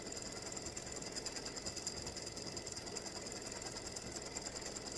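A sewing machine runs steadily, its rapid mechanical clatter repeating in an even, fast rhythm, close and fairly quiet with no voices.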